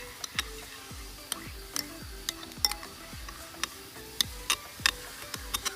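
Rapid clicking taps and scraping strokes as Frooti fruit drink is stirred into a slime mixture, the sharp ticks coming in an irregular but steady rhythm, close and fairly quiet.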